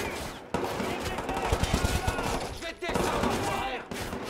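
Gunfire in the video game Watch Dogs 2 crackles as rapid, dense bursts of shots. The shooting is loud and continuous with brief breaks, and some voice sounds mix underneath.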